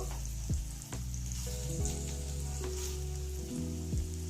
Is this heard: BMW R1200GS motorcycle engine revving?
no